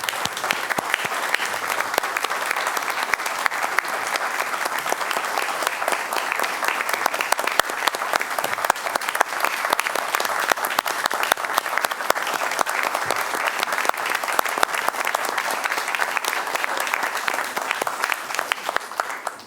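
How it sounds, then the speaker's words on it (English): A crowd at a school district special board meeting gives loud, sustained applause that carries on steadily without letting up. "Thanks for the applause"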